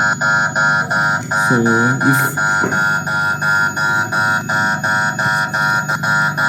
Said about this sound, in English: when we remove the magnet, the buzzer sounds and there goes the intrusion